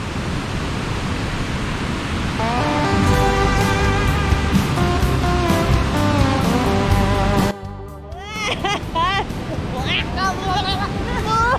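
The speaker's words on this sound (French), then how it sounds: "on est arrivé aux cascades bleues. C'est très beau." Blue waterfall cascades in the Chiapas jungle roaring as a loud, continuous rush of falling water close by, with people talking and laughing over it.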